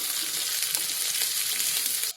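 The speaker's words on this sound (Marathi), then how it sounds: "आता इथे कांदा फ्राय होतोय ना" Onion and curry leaves fry in hot oil in a Konkani-style kitchen, giving a loud, dense, continuous sizzle that cuts off abruptly near the end.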